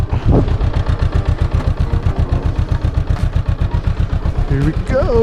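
A Honda CB500F motorcycle engine runs close by with a steady rapid pulsing throb, then revs briefly near the end as a voice speaks over it.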